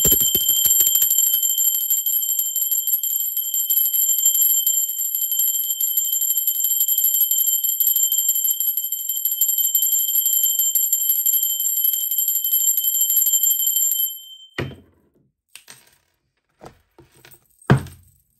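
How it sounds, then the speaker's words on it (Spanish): A small bell rings continuously during a tarot card reading, a bright, sustained metallic ringing that holds steady for about fourteen seconds and then stops abruptly, followed by a few soft taps and knocks. "Ahora sí va campana"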